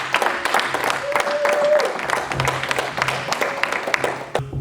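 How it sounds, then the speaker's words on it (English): A church congregation claps their hands in a dense, lively burst that carries on for several seconds, with voices and cheers mixed in and a held tone sounding briefly underneath. "Can we clap our hands, please?"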